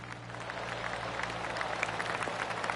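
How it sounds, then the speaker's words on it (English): In the PGA TOUR 2K25 golf video game, a gallery of spectators claps around the course, a steady, moderately loud patter of applause that holds for the length of the clip. "I can hear the golf claps around the course"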